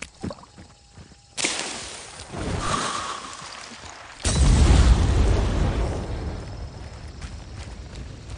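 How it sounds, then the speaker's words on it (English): A flame bomb in Hunt: Showdown goes off with a sudden loud whoosh and a second deeper burst, followed by a roaring, crackling fire that fades, with no talk. "You got a flame bomb."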